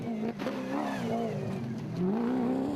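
RFS BMW X3 rally car engine revving during the Nkomazi 400 rally, a steady mid-pitched drone with rising and falling revs, loud and continuous throughout with a brief dip early on.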